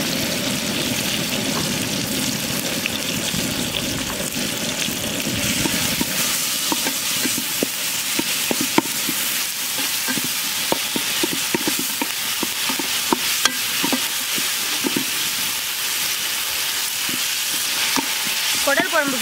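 Garlic sizzles and crackles in hot oil in a pan for goat intestine curry, with steady loud frying and intermittent stirring scrapes throughout.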